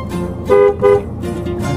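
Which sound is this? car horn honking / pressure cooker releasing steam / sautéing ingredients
car horn honking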